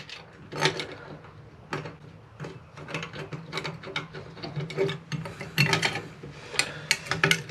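Screws are threaded by hand into the trip lever plate of a bathtub drain, producing quiet irregular ratcheting clicks and metallic ticks close by, in short bursts with small pauses between them.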